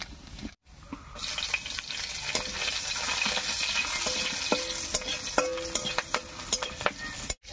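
Chopped ginger and slit green chilies fry in hot oil with whole spices, giving a steady close sizzle. Occasional clinks from a stirring spoon cut through the sizzle, and no one speaks.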